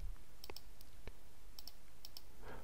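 A few sharp clicks of a computer keyboard key, the Enter key pressed while working in a spreadsheet, close and quiet over a soft background hiss.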